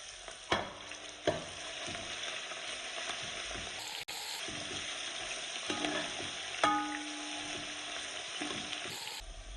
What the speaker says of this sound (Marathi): त्यामध्ये वाटून घेतलेलं लसूण टाकून घेऊया आणि लालसर होईपर्यंत परतून द्यायचं आहे